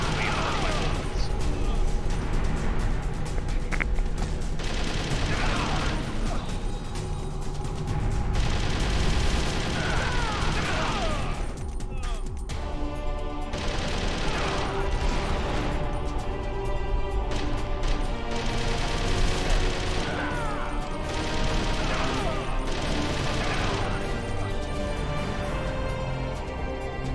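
Sustained gunfire from Metal Gear Solid: The Twin Snakes, with bursts of automatic shots and crashes layered over game music, loud and continuous, with a voice talking at times.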